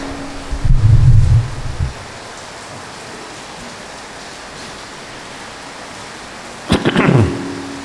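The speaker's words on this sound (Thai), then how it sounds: "โอ้ วันนี้ฝนตกว่ะ" Rain falls steadily, a soft, even hiss in the background, with a couple of louder low thumping bursts at the start and near the end.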